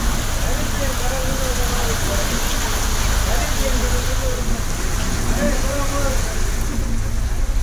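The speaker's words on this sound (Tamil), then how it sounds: "பழனியில் வெளுத்து வாங்கிய மழையால் சாலையில் பாய்ந்தோடிய தண்ணீர்." Heavy rain pours in Palani while water rushes along a road, making a dense, constant loud hiss and wash that does not let up, with no clear speech over it.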